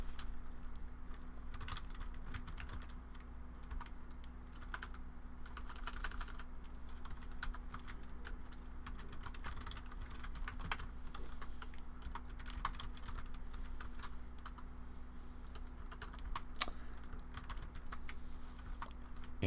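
Fingers typing code on a computer keyboard, a steady stream of light, rapid key clicks with irregular pauses, close and quiet against a faint background hum.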